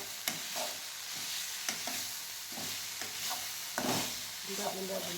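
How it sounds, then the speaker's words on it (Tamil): Tomatoes sauté in a pan with onion and ginger-garlic paste, a steady close sizzle broken by repeated scraping stirs of a spoon against the pan. "தக்காளி போட்டுக்கலாம். அப்புறம் நல்லா வதக்கிடலாம்"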